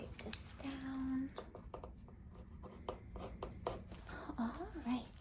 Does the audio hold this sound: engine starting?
no